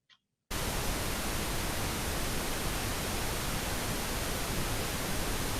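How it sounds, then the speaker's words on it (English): Static white noise from an art video playing in a gallery talk: a sudden, steady, dense hiss that fills the clip after a brief quiet start. "it has this kind of static white noise"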